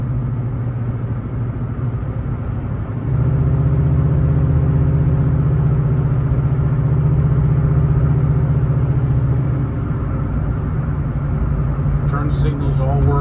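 A 1966 Chevrolet Chevelle with a 468 engine on the move, its deep, steady rumble filling the cabin and swelling louder after a few seconds, with a voice speaking over it.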